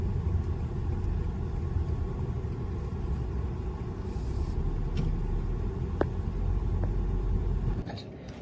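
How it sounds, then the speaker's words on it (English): BMW SUV driving around a company campus, a steady close interior rumble of the engine and road noise throughout, with a few faint clicks and a drop in level near the end. "now I will drive this vehicle in our company campus"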